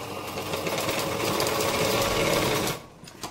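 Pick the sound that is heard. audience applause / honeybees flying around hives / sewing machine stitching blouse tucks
sewing machine stitching blouse tucks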